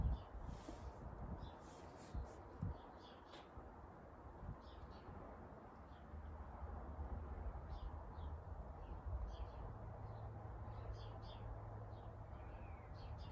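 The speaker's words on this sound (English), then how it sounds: "At least we can listen to the nice birds while you're waiting." Faint outdoor birdsong drifts in as scattered high chirps and short calls, set against a soft rustle of wind and low background noise.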